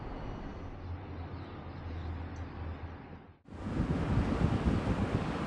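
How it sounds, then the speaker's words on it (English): Wind buffets a smartphone's built-in microphones on a windy outdoor morning, a dense rumbling roar that briefly drops out before a stronger, louder gust takes over. "I'm recording this on a windy morning"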